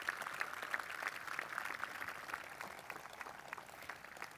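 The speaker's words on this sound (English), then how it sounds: "A huge round of applause to our firefighters and our police officers." Applause for firefighters and police officers at a city inauguration ceremony in Long Beach, a fairly faint, scattered outdoor clapping from a crowd with individual claps audible, steady throughout under distant ambient sound.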